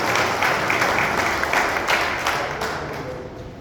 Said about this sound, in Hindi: इसलिए ताली बजा के मोदी जी का अभिनंदन होना चाहिए